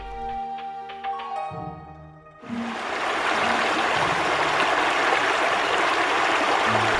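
Water of the Chishui River flows in a continuous, fairly loud broadband rush that swells in after a few seconds of soft music and then holds steady to the end.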